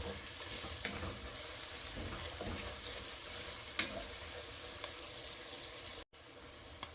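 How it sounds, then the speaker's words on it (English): Butter melting in a soup pot sizzles with a steady, close frying hiss, broken by a few faint stirring clinks. "We'll get that butter melted."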